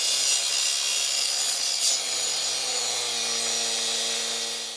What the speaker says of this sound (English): Now, let's get grinding.